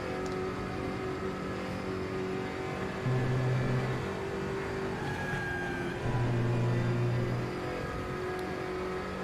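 A race car engine in the RaceRoom racing game drones steadily at moderate volume, with two brief rises in pitch and loudness as the revs climb, and no talking over it.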